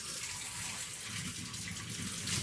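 Cold water pours quietly and continuously into a mixture of flour and vegetable oil for homemade play dough, a soft, even splashing rush with no speech.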